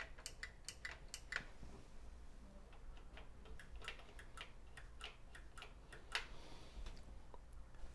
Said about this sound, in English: One has a clicky keyboard, one has the quiet click keyboard.